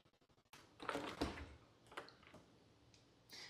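A Bosch dishwasher door, in a house built in 2018, opens after a few quick clicks of the latch, then a soft thud and sliding rattle of the door and racks, close and quiet.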